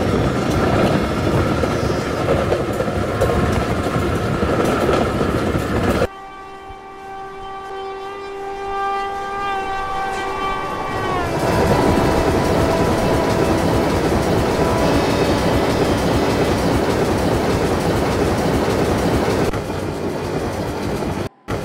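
A train in an Indian train simulator game runs steadily on its rails, with a long horn blast partway through and continuous rolling rumble and clatter throughout, loud and close.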